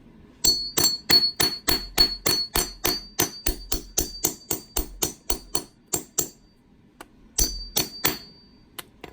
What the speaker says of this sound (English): put the punch on, and hammer it through